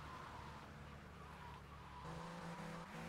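In the video game GTA Vice City, a Lamborghini drives with a steady engine drone that rises in pitch near the end, heard alone at low volume with faint tire noise.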